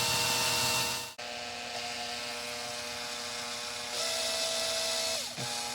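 A power drill whines steadily while boring slowly into thick plastic on a Lexicon LXP-15 encoder repair, its motor tone shifting pitch, pausing briefly and then revving again toward the end.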